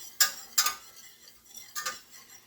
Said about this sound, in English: Keep stirring it.